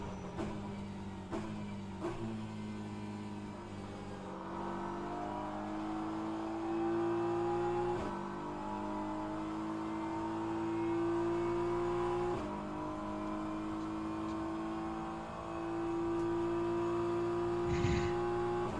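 Porsche race car in rFactor 2 at Monza at full throttle, a steady, moderately loud engine drone rising in pitch through gears, with brief shift breaks and another car's tone alongside, no talk.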